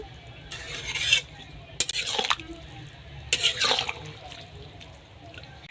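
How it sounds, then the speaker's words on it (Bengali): Water is poured into vegetables in a pan, then stirred, giving several splashy, hissing bursts with spoon scrapes between them at close range. "এবার সেদ্ধ হওয়ার জন্য আমি জল দিয়ে দেব, দিয়ে একটু নেড়ে নেব।"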